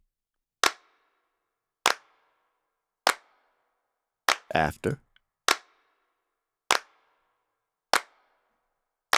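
Clap sample hit at a steady pulse, sharp bright cracks with short tails, close and loud, with one short spoken word breaking in midway.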